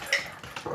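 A dog gives a brief, close bark or yelp, a short sharp burst followed by a softer whining sound, all under a second long.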